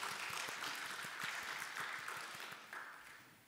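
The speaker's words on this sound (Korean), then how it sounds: "좌우에 있는 사람들에게도 우리 사랑과 격려의 박수 하겠습니다." Congregation clapping at a Wednesday church service, a steady wash of many hands with some distinct nearer claps, fairly faint and gradually fading over a few seconds.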